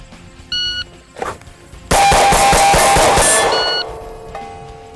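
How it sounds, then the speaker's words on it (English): Pistol fired rapidly at a steel plate about 12 yards out after an electronic par timer beep: a short beep, then a fast burst of about seven shots with ringing metallic clangs, loud and close, ending with another beep. "Let's see how many shots I can get off in 3 seconds."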